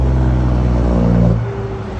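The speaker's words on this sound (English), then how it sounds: "here comes the truck. Hear that?" A truck carrying a double payload on a road in Mexico rumbles past close by, a loud low engine drone that holds steady then fades as it moves away.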